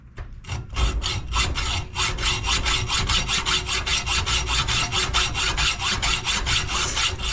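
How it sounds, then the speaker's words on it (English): A hacksaw works through a bolt on a Craftsman R1000 riding mower in quick, steady back-and-forth strokes. The rasping is close and loud, with an even rhythm throughout and no talking. "Alrighty, let's cut this bolt off here,"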